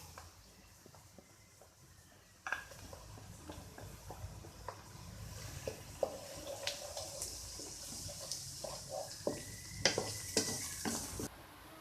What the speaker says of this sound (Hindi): लहसुन अदरक और प्याज हमारा फ्राई हो चुका है।